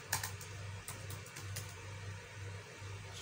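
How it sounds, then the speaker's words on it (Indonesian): Typing on the keyboard of a second-hand Lenovo ThinkPad X230 laptop: a steady run of light, quick key clicks over a low background hum, recorded close with no talking. "saya akan coba tes keyboard"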